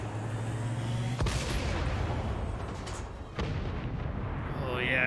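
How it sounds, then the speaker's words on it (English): Cannon fire in the video game XCOM 2 booms twice, heavy artillery blasts over a steady rumbling game soundtrack, with faint speech in the background. "Cannon shooting again."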